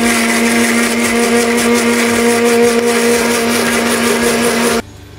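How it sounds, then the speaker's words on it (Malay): A blender wet-grinds a spice paste for asam pedas with ikan kerisi, made without belacan, giving a loud, steady whirring drone that runs unbroken and then cuts off abruptly near the end. "Kisar dengan kisar basah ya."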